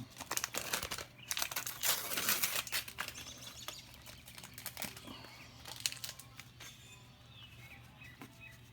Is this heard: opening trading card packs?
yes